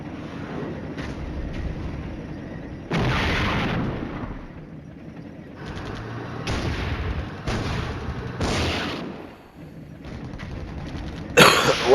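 Gunfire and shelling in Flashpoint Campaigns: Red Storm, a Soviet campaign wargame: repeated bursts of shooting and explosions in loud spells, with a sharp crack near the end, all over low battlefield rumble.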